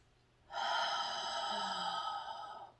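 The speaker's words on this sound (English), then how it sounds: "So take that breath in." A single slow, deep inhale during breathing meditation, a soft airy breath close by that begins suddenly and sustains for about two seconds in otherwise quiet surroundings.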